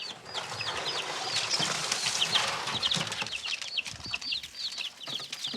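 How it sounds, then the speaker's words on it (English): Young, recently hatched chickens clucking and peeping together in a busy flock, with repeated chirps and soft fluttering close by. "These are the chickens that hatched"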